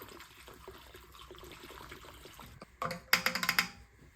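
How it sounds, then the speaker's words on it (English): Fuel trickling and splashing as it is poured into the tank of a vintage Suzuki SE500A generator, a soft liquid patter that turns louder and gurgling toward the end. "I'm just going to put some fuel in it to make sure that we haven't got any leaks"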